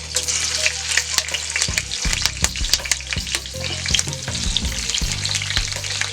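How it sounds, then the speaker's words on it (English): Potatoes brown in a cast iron skillet with a continuous loud sizzle and crackle, punctuated by frequent clinks and scrapes of stirring, with no talking over it. "I got my cast iron skillet on here, and we're just going to brown these off"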